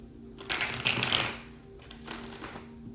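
Tarot cards being shuffled, a fluttering burst of riffling card edges followed by a second, softer riffle, close and dry with no voices.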